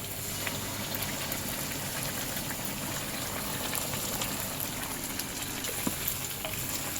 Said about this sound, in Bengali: পেস্টটা দিয়ে কিছুক্ষণ কষাতে হবে।